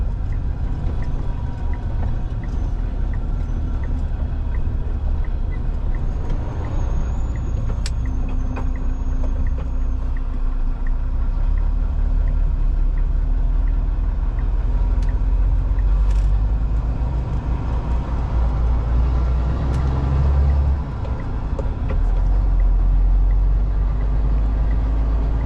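A heavy truck hauling 66 tons of WF steel is being parked: a loud, steady low engine rumble holds for the whole stretch, with faint hiss and slight swells, and no talking.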